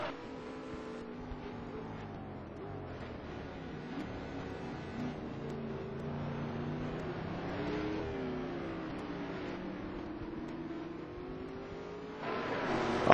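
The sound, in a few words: racing cars including Mosler at Nürburgring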